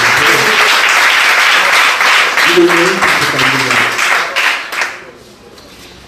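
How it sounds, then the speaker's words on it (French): Loud, close applause from an audience at a dance battle, many hands clapping with some voices mixed in, then fading out quickly near the end. "je vous demanderai tout d'abord d'applaudir les 2 groupes qui ont eu le courage"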